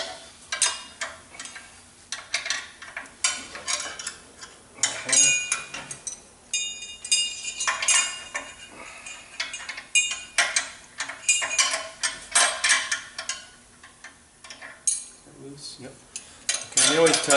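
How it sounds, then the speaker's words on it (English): Metallic clinks and ratcheting turns from a wrench loosening jam nuts on the bedknife adjuster of a Jacobsen LF 3400 reel mower, irregular close taps and scrapes in short bursts, with someone talking at points. "So I'm going to loosen our jam nuts so we can make our adjustments first."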